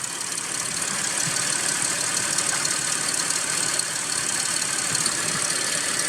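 2005 Toyota Highlander engine idling roughly with a misfire, a steady, close mid-pitched running drone with faint irregular thumps and no talking.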